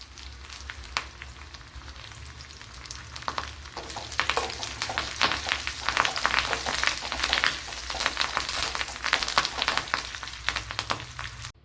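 Curry leaves and dried red chillies crackle and sizzle in hot oil for a Kerala kadala dish, a constant close spattering that grows busier partway through, with no voices.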